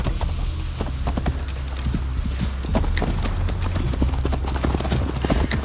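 Horse hooves clip-clop at a steady gallop in Assassin's Creed Valhalla as Eivor rides toward Tamworth, the rhythmic hoofbeats close and continuous for the whole stretch over a low rumble of ambience.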